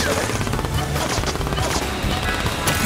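Rapid machine-gun fire in Toybox Turbos rattles in a steady, fast stream of sharp shots, loud and close, continuing throughout.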